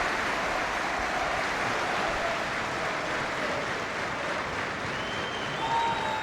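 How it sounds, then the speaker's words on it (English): A football crowd on all sides of the ground gives a standing ovation during a Preston North End versus Liverpool match, a steady, distant wash of applause that continues unbroken throughout. "all on their feet and applauding, and likewise the other three sides of the ground all giving an ovation too"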